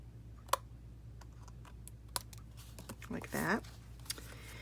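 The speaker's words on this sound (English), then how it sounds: "I'm just going to trim the edges with my scissors" Scissors trim the edges of a handmade paper card: a few faint, sparse snips and clicks, then a brief cluster of crisp cutting sounds, all quiet over a low background hum.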